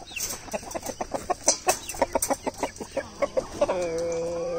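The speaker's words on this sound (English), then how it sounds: "I let Walt put the birds away last night." Chickens cluck in quick, uneven bursts close by, ending in a long drawn-out call from one bird.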